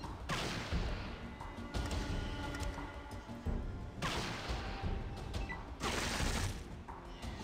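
Combat gunfire in the video game Fallout 2, coming as repeated heavy bursts of shots and crashing impacts in clustered waves, fairly quiet overall, with no talk over it.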